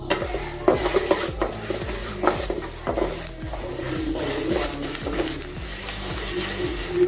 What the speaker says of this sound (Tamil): 25 கிராம் வெந்தயம். இப்போ இதையும் வறுத்துக்கலாம்.